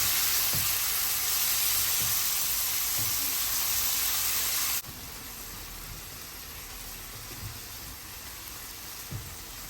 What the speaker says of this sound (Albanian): I përziej mirë për pak minuta derisa domatet të zbutet.